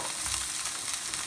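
A sea bass fillet sizzles skin side down in a hot pan as a brief, loud, even hiss heard up close.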